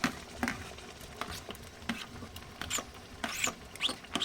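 Homemade hot pepper sauce of coarsely ground peppers being stirred by hand, giving wet, sticky squelches and scrapes in irregular bursts, close up with no talking.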